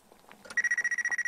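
Mobile phone ringtone in an anime scene: a steady electronic warble of rapid, evenly pulsed tones starts abruptly and keeps going, loud and close, after a brief stretch of quiet background sound.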